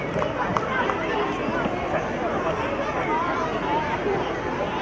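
An audience at a school annual day function applauds: dense, steady clapping from many hands fills the whole stretch, loud and even, with crowd chatter mixed in.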